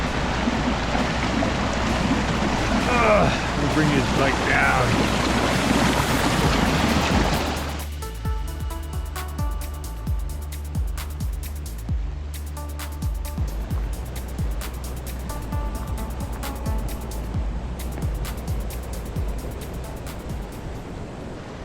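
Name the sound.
mountain stream water flowing near whirlpool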